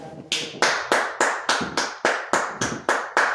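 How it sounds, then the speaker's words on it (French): A church congregation claps together in a steady, loud rhythm, eleven sharp bursts roughly a third of a second apart, with no voices over them. "Acclamez très fort le Seigneur."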